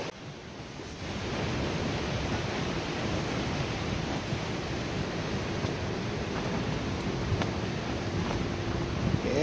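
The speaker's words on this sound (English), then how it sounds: "Yep, it's windy" Steady rushing wind on a seaside fishing pier buffets the microphone, a continuous broad roar with no voices, holding level throughout.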